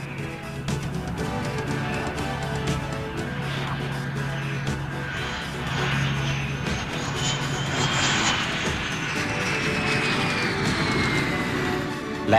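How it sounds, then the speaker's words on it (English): An F-18 Hornet fighter jet doing carrier-style test landings and takeoffs at a land base roars continuously and loudly, its engine whine rising in pitch through the middle and holding steady to the end. "one of the test F-18s, all of which were identified by blue or red markings on the wingtips and nose section, was subjected to carrier landing and takeoff procedures"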